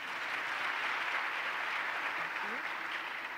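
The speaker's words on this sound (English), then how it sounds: "so we can double clap for him." Audience applause at a sports leadership event honouring an award-winning esports champion: steady, even clapping from a crowd, filling the whole moment without pause.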